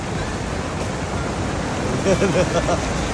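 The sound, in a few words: strong ocean waves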